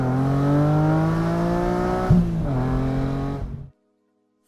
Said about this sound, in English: a naturally aspirated monster that can be heard from miles away